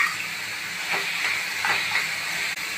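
Raw prawns go into a hot pan of onions and green chillies, giving a steady, close hissing sizzle with a few faint stirring scrapes and no voices.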